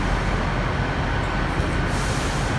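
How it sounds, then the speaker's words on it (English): Great Western Railway train for Penzance at Plymouth station, a steady loud rumble of the train running close by throughout, with no voices. "Now this is the close-up of the 1547 Great Western Railway service to Penzance"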